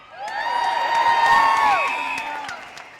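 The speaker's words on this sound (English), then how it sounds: "give yourselves a big round of applause because you deserve it" A crowd at a political rally cheers and whoops, with rising and falling voices and applause that swell to a peak mid-way and then fade off.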